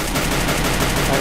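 Gunfire in a battle royale mobile game: a rapid burst of automatic shots fired continuously and loudly, with no pauses over the short stretch.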